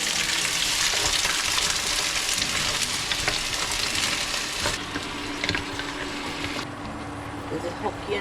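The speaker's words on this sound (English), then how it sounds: "This is Hokkien noodle. And stir a little bit." Hokkien noodles stir-fried in oil with garlic at an outdoor camping spot hiss and crackle steadily, with scraping and clinking from stirring and voices talking over the cooking.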